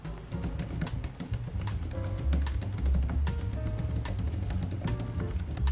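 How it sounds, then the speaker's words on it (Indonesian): Rapid typing on the backlit tactile keyboard of an HP 14s laptop, a dense stream of crisp, close key clicks with an irregular rhythm and no talking. "Untuk feel yang dirasakan saat menggunakan keyboard ini pun cukup nyaman, berasa tactile-nya."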